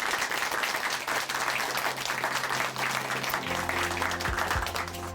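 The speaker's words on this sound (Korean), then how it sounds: "우리 형제님께 다시 한번 큰 박수 보내드릴게요." A church congregation gives a testimony speaker a sustained round of applause, dense and even throughout, while keyboard music comes in underneath partway through.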